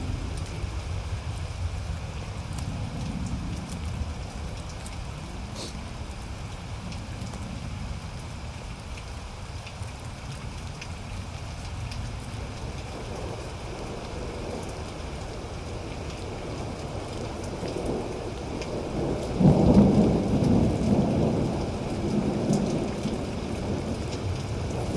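Steady rain patters through the woods while low thunder rolls in the distance, swelling into a louder rumble near the end, with no voices.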